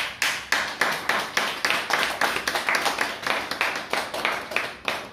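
Applause from a church congregation, a dense run of hand claps that rolls on steadily for several seconds, close and fairly loud, with no talking over it.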